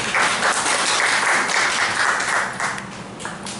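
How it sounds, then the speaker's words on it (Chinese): A crowd at a tribal cultural camp claps to welcome a speaker, sustained applause that runs loud for a few seconds, then thins and tapers off near the end. "然后我们掌声欢迎绿源哥。"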